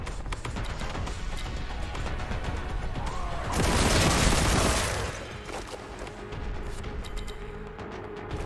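Warhammer 40,000: Boltgun video game: a heavy magazine dump of gunfire into Chaos Space Marines, a rattling barrage under battle noise that swells to a loud, roaring peak midway, then falls back to scattered shots.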